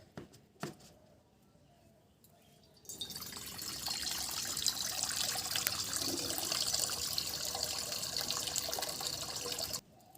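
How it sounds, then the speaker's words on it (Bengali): Water poured into a wok on a lit stove in a home kitchen, a steady loud splashing stream for about seven seconds after a few quiet knocks, then stopping abruptly. "আমি কড়াটা বসিয়ে দিচ্ছি। জল দিয়ে দিচ্ছি।"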